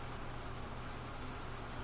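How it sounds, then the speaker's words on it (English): Steady rain falling in the video game Cemetery Mary, a continuous even hiss of drops with no breaks, filling the space at a constant moderate level. "I woke up to the sound of rain"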